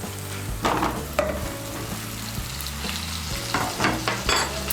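Fried cauliflower stirred into spice paste in hot oil, a loud close sizzle with rhythmic spatula scrapes and clatter against the pan.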